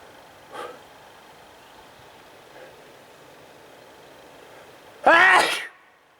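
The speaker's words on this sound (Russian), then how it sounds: "И чихая уже, замучился чихать." A man sneezes once, sharply and close, near the end, triggered by handling wild garlic in a quiet outdoor setting, with a softer nasal snort earlier.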